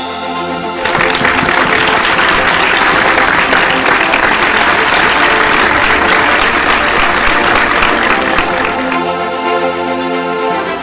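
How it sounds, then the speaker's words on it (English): An audience at a scientific award ceremony applauds an award winner, a loud, dense, sustained burst of hand clapping from a large crowd lasting about eight seconds before tapering off. "A big round of applause, ladies and gentlemen"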